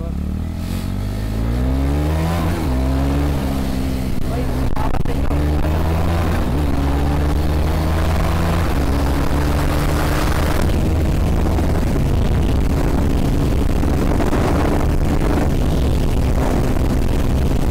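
A KTM Duke 390 BS6 motorcycle accelerating hard, its engine note climbing in pitch through several gear changes, loud and close with strong wind rush over it.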